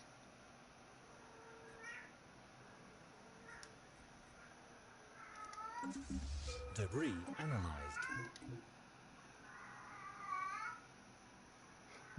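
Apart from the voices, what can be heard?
cat meowing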